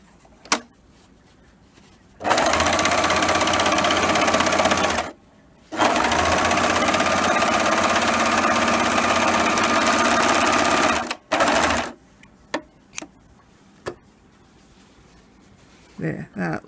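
An overlocker serger runs a test seam on scrap fabric, its steady motor whir coming in two long close bursts of several seconds each, followed by shorter stop-start stitching runs and quiet pauses.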